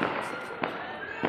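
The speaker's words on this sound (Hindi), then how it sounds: "बच्चे इधर पटाखे भी मेरे तरह गली में जल रही है" Firecrackers bursting in a street during Diwali celebrations, with two or three sharp cracks popping over a steady crackling, hissing background of festive noise.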